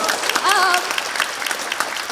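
An audience at a stand-up comedy talk claps steadily for a couple of seconds, a close, crisp patter of many hands, with a brief voice rising over it early on.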